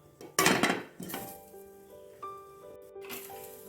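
A metal lid clanks down onto a pan holding a mango pancake, with a loud first clatter, then several softer rattles and ringing contacts as it settles.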